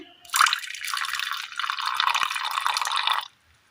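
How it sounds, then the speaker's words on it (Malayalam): Boiled black tea steeped with hibiscus is poured into thumba leaf juice for a homemade hair dye. The pour is a close, continuous trickling stream lasting about three seconds, then stops abruptly into silence. "ഈ തുമ്പയുടെ നീരിലേക്ക് നമ്മൾ തിളപ്പിച്ചെടുത്ത കട്ടൻ ചായയിൽ ചെമ്പരത്തി ഇട്ട് തിളപ്പിച്ച വെള്ളം ഒഴിച്ചു കൊടുക്കാം"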